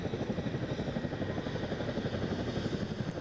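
A Chinook twin-rotor helicopter flying a display manoeuvre at the Eastbourne International Airshow, its steady rhythmic rotor thudding and engine roar loud and continuous throughout.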